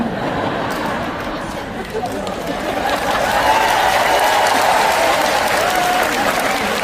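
An audience of married couples at a Valentine's Day gathering breaks into applause, a steady roar of many hands clapping with crowd chatter mixed in, swelling slightly louder midway and staying full to the end.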